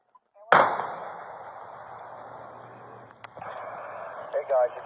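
A sudden loud gunshot-like crack bursts out during a police shootout with children, followed by a long echoing tail, a second faint shot, and urgent voices speaking near the end.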